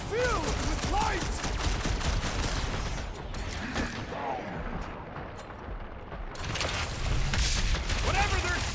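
Enemy gunfire in the Guardians of the Galaxy video game: dense bursts of rapid shots and energy blasts with crackling impacts, loud and continuous, mixed with character voices.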